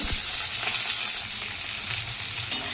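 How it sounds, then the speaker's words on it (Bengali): Capsicum and onion fry in oil for chilli chicken, a loud dense sizzle that runs steadily throughout, with a soft stirring knock near the end. "এই তেলের মধ্যে আগে দেব ক্যাপসিকাম আর পেঁয়াজ দিয়ে একটু ভাজা ভাজা করে নেব"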